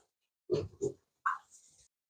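Piglets on a pig farm making a few faint, short grunts and snuffles close by, in quick separate bursts with silence between them.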